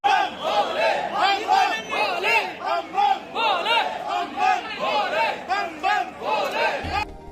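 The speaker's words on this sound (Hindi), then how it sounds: "इस दौरान आपको यहाँ भी भक्तों की भारी भीड़ मिलने की संभावना रहती है।" A large crowd of pilgrims at the Chandanwari checkpoint on the Amarnath Yatra route fills the air with continuous loud voices and rhythmic chanting or shouting, sustained for several seconds.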